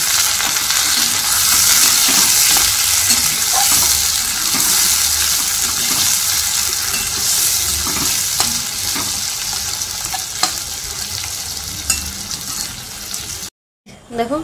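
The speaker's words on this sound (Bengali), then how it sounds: "এই যে দেখো আলু আর পেঁয়াজ একসাথে ভাজা হচ্ছে" Potatoes, onions and chillies frying in a pan give a loud, continuous bright sizzle with occasional stirring scrapes, cutting off briefly near the end.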